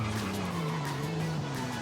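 Car in Forza Horizon 5 braking into a corner, a sustained tire skid squeal over a droning engine, close and continuous for about two seconds.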